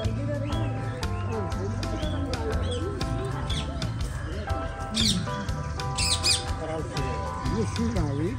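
Parrots and other birds squawking and calling loudly at a zoo in Nepal, harsh repeated cries over a dense crowd-like background, with people talking throughout.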